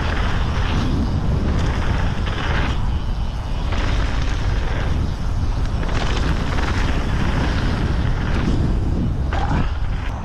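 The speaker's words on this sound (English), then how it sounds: "It seems windy." Strong wind at 417 Bike Park buffets the microphone in a continuous loud roar with gusty surges, and no one speaks over it.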